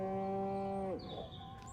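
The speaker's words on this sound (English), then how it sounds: "Again with the moo?" A cow in the Destroy All Humans! video game gives one long, low, steady moo that ends abruptly, followed by faint game sounds.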